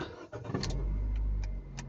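A car engine cranks briefly and catches, settling into a steady low idle rumble, close by.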